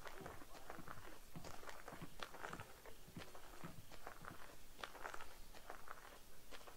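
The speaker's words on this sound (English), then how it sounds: "Maybe they could hear my footsteps." Footsteps in the stealth video game Splinter Cell, a steady run of faint, soft crunching steps repeating through the whole stretch under low background noise.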